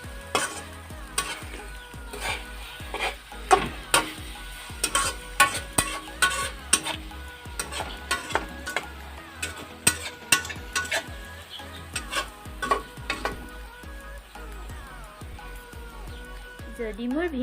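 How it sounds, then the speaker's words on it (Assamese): Taro (kachu) fry being stirred in a pan with garam masala, a spoon scraping and clinking against metal in frequent irregular strokes over a faint steady sizzle, close and fairly quiet. "আৰু ভালদৰে আকৌ এবাৰ লৰাই দিম।"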